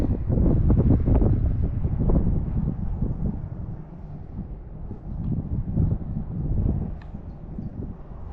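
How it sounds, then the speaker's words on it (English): Heavy wind buffeting a microphone outdoors near a Massey Ferguson tractor, loud low rumbling gusts that rise and ease throughout, with no voices. "It's because it's windy."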